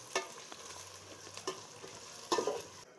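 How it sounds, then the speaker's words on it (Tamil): Chopped onions and green chillies sautéed in a pan for dum biryani over a wood-fired stove, soft sizzling with a few spatula scrapes and stirring bursts, fairly quiet and close, without speech. "வெங்காயம்லாம் நல்லா செவக்கிற அளவுக்கு வதக்கிக்கலாம்"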